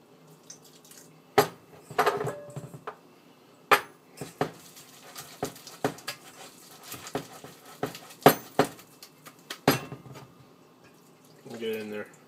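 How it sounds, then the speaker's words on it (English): Crêpe batter being stirred with water in a bowl, irregular clinks and taps of a utensil against the bowl with wet sloshing between strikes, close and moderately loud, with a voice briefly at the end. "I'm just going to slowly mix it in there"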